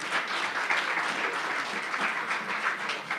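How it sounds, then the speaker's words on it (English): A round of applause from an audience at a convening event, sustained dense clapping from many hands at a steady level for the whole span. "Please, a round of applause for Lemuria."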